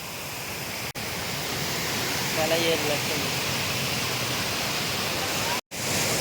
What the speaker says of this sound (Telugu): పారేటి జలపాతం